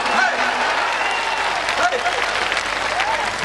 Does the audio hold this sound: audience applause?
yes